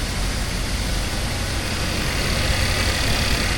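A car engine idles steadily up close after an exhaust repair, a continuous low rumble with a fairly even, unbroken tone throughout.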